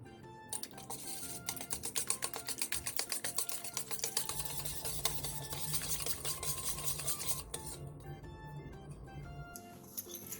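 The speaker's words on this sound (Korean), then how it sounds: "볼에 물 300ml, 카레가루 1스푼, 밀가루 8스푼, 소금 반스푼, 다진 마늘 1스푼, 계란 2개를 넣고 골고루 섞어주세요." A batter of water, curry powder, flour, salt, minced garlic and two eggs is whisked in a bowl, making a rapid, rhythmic clicking and tapping that speeds up, then settles into softer scraping with a faint hum beneath.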